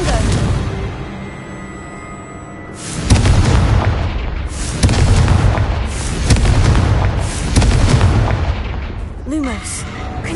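Blasting curse explosions from the Hogwarts Legacy video game, a series of loud booming blasts that rumble in bursts, mixed with game sounds and a spoken voice.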